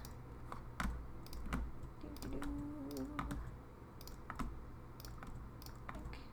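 Computer keyboard keys pressed for software shortcuts during digital artwork editing, a series of sharp separate clicks spaced irregularly over a low steady background hum, close and moderately quiet, with no talking.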